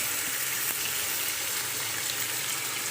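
Chicken and marinated potatoes tipped into a pan of browned onions, giving a steady, close frying sizzle that carries on without a break for the whole stretch, with no voice over it.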